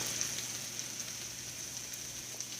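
Vegetables for vegetable lo mein sautéing in a hot pan, giving a steady, faint, even sizzle and crackle with no talking.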